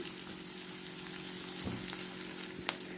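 Onions frying in ghee on a tawa for Mumbai-style pulao, a soft, even sizzle over a faint low hum, with a couple of light clicks from stirring, no speech.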